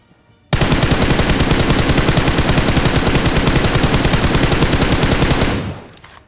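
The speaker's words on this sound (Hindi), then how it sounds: "वहां पीछे की साइड से फायर आ रहा था" Sustained automatic gunfire in the mobile battle royale game BGMI, a loud continuous rapid-fire burst lasting about five seconds before cutting off, with no talking.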